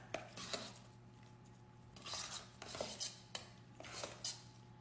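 A utensil scrapes and stirs shredded ingredients in a dish for a Texas trash recipe. It makes soft, repeated rubbing and clinking strokes in an irregular rhythm over a steady low hum, and nobody talks.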